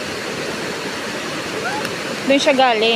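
Water from a river rushes through a spillway in a loud, constant roar, with a person speaking Tagalog over it toward the end.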